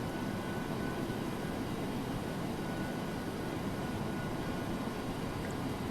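A DC-8-73F freighter taxiing in Flight Simulator X, its jet engines giving a steady, broadband roar that holds constant throughout with no talking.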